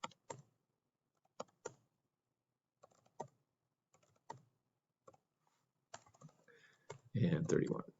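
Keys on a computer keyboard click in short, quiet clusters as data is typed into a spreadsheet, with gaps between bursts and brief talk near the end.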